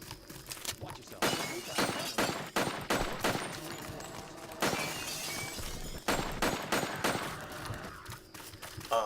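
A 12-gauge shotgun firing in rapid bursts, likely in a video game, sharp loud blasts in clustered volleys separated by short pauses, with metallic clatter between shots.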